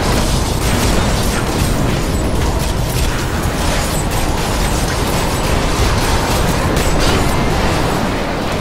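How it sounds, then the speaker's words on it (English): Explosions from an earthquake barbarian in Diablo III rumble in a dense, continuous wall of booms and crackling bursts, with no pause over several seconds. "Explosion."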